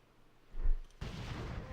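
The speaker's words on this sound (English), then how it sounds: "Did he fucking explode?" A single explosion in World of Warcraft, a deep thump swelling and fading, then a sudden loud burst of broad rumbling noise that holds steady to the end.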